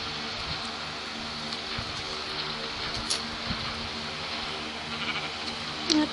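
Sheep bleating in the Minecraft video game, with short game cries over a steady, busy background of game noise and no speech.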